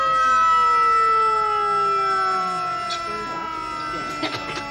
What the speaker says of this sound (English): God, I wish they'd turn that bloody siren off.